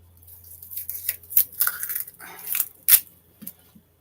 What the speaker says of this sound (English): Now I'm going to cut up an onion.